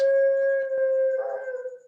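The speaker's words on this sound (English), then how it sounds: "Now my dog is screaming." A hungry pet dog lets out a steady, sustained howl close by, holding one pitch before it wavers and breaks off, with no talking over it.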